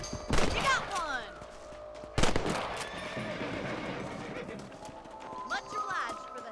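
Rifle shots ring out in Red Dead Redemption as a rancher hunts rabbits: two sharp loud cracks about two seconds apart, then a fainter shot later, set against outdoor game ambience with horse sounds and talking.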